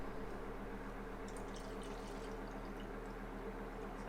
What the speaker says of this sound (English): All right, so I'm going to pour it in.